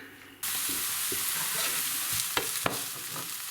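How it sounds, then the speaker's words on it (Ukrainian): A loud, hissing sizzle bursts in suddenly as onions hit hot sunflower oil in a pan, then continues steadily with a few crackles and pops. "Смажимо цибульку."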